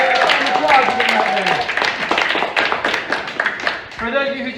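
Gathered visitors clap for a newly promoted fire commander at a fire station museum, a scattered burst of hand claps mixed with chatter and voices, fairly close and steady before tapering off.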